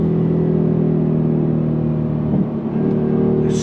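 A 2025 Ford Mustang GT V8 rumbles loudly and steadily up close, with a low droning engine note that dips briefly near the end as if shifting gear, with no talking over it.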